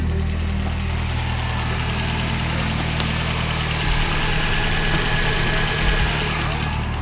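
A Nissan 240SX engine idles steadily while warming up, a continuous low rumble with a slight bump in pitch near the end, with people talking faintly over it.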